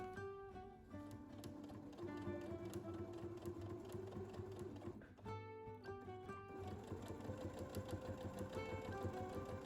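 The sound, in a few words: sewing machine stitching a straight seam along bias binding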